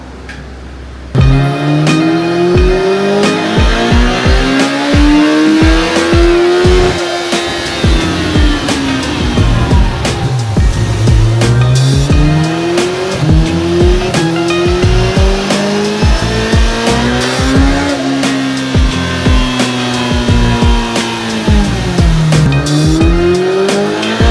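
A 2018 Kawasaki ZX-14R motorcycle running on nitrous roars loudly, its engine pitch rising and falling through repeated hard acceleration surges, with sharp crackles in between.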